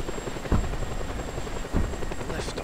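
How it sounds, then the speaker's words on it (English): Helicopter in the video game Just Cause 2 lifting off, a steady loud rotor drone with two heavier thumps partway through, running throughout with no talk over it. "It's a helicopter, that'll be good."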